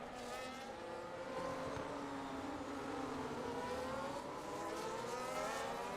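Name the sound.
Formula 1 race cars on track in F1 25, from a video game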